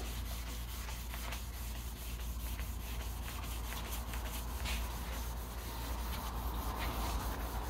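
Wet sanding of automotive clear coat with the 3M Sand & Polish System produces a steady close rasping rub, repeated back-and-forth strokes continuing evenly for several seconds with no talk.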